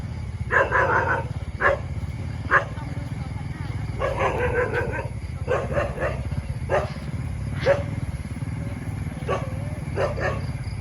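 Dogs bark repeatedly along a dark, muddy rural road at night, several loud clusters of barks spread across the stretch over a steady low rumble, with no talk.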